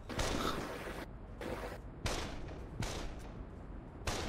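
Gunfire in the video game Project Winter, several loud bursts of rapid shots separated by brief gaps, close and harsh.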